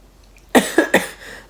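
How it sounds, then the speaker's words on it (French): Three quick, sharp coughs in a row, close and loud, with no talking. "voyez là, je tousse"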